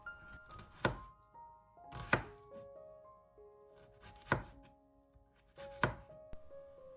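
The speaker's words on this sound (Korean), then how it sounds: "양파 반개는 채 썬다" Half an onion is sliced into thin strips with a kitchen knife on a cutting board, giving four sharp, separate chops spaced about 1.5 seconds apart, close and clear with no talk.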